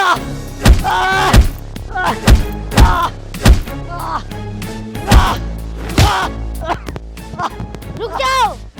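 A man is beaten in a gang attack, heavy punches and dull thuds landing one after another in an irregular rhythm, loud and close, with shouting voices crowding between the blows.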